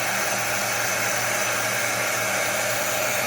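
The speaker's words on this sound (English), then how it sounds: "So what are you doing with the heat gun?" A heat gun warms a shad dart before powder coating, giving a steady, close airy whir like a hair dryer that holds level for a few seconds.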